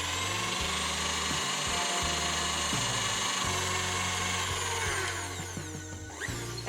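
Electric mixer whirring steadily as it beats lemon frosting for a lemon carrot cake, a continuous close motor hum with slight shifts in pitch, easing off near the end.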